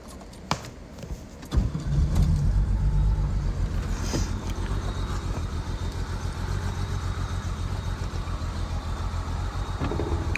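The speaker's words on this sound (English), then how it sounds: "show you the M127 inline 6. As you can hear, it runs really well, holds a nice idle, nice and low idle." A 1964 Mercedes-Benz 220 SEb with an M127 inline-six starts after a few clicks and settles into a steady, low, even idle, heard close with no talking.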